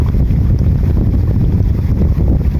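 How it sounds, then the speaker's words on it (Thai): Strong, steady wind gusting across open rice fields under an overcast sky, a continuous low roar buffeting the microphone with no letup and no voices. "มีลมเหี่ยงเนาะทุกคน"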